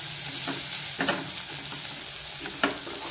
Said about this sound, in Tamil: இப்போ பட்டாணி போட்டு 1 நிமிஷம் வதக்கியாச்சு.